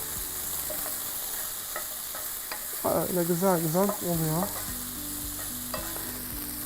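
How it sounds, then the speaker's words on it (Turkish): Steady sizzling of chicken and onions frying in a pan, with a brief voice speaking in the middle over the constant crackle. "Soğanlar da tavuğun aromasını çekmeye başladı ve pişmeye başladı."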